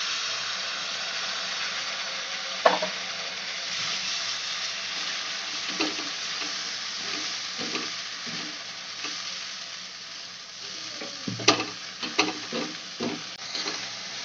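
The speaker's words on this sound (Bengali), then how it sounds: "আদা রসুনটা মিক্স করে নিচ্ছি ভালো করে।" Ginger-garlic paste being stirred into golden-brown fried onions in a pan for a chicken curry with taro roots: a steady close sizzle with scraping spatula strokes and clinks, louder toward the end.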